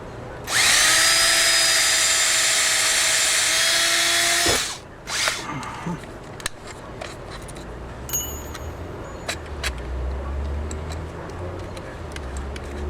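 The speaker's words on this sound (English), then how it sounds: "It's always better if you have two drills to work with when you're doing something like this." Power drill boring a single hole during shed construction, a loud steady whine lasting about four seconds, then stopping, followed by quieter clicks, taps and low outdoor background noise.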